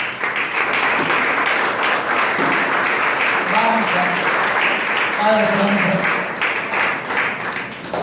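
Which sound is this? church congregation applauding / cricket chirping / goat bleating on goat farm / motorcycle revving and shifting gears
church congregation applauding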